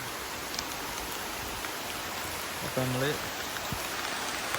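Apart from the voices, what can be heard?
rain falling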